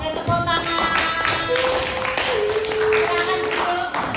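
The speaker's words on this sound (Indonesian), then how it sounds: "Oke, tepuk tangan." A small group in a classroom claps together, a dense patter of hand claps continuing steadily throughout, mixed with background chatter and a sustained tone.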